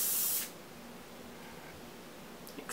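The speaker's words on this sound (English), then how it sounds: "just add in this spray" A short burst of aerosol hairspray hissing close up at the hair roots, then quiet, with a faint second spritz at the end.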